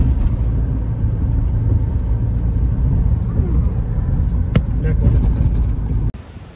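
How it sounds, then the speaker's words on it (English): A car cruises along the road between Bheemili and Vizag, with a steady low engine and road rumble filling the cabin throughout, a few brief rattles near the end before it drops off abruptly. "So we are driving from Bhimli to Vizag"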